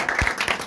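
Brief burst of hand clapping at a birthday celebration, a few quick claps close by, sounding thin and short with no one speaking.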